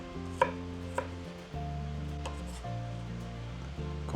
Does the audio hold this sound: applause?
no